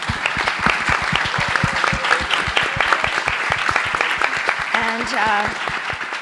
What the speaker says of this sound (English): first let's applaud Zico